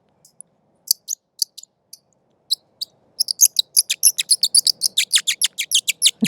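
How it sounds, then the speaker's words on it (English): Bird-like chirps from a handheld Audubon bird call, first a few sparse squeaks, then a rapid, rhythmic run of bright twittering tweets, close and fairly loud. "this little Audubon bird call"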